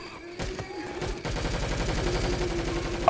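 Sustained assault rifle fire in Left 4 Dead 2, a co-op zombie shooter: rapid, steady automatic shots rattle on continuously for most of the clip after a short pause, loud and close, with no talking over them.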